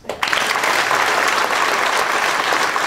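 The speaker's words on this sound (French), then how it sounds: "vous saurez applaudir Philippe Chauveau qui a narré cette période trouble qui a traversé la France." An audience at a stage show fills the space with dense, sustained applause, many hands clapping steadily from start to finish without voices.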